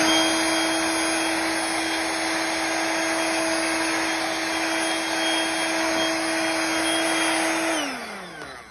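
A Dirt Devil Versa Clean vacuum cleaner runs close and loud with a steady high-pitched motor whine and rushing airflow, then winds down as it switches off near the end.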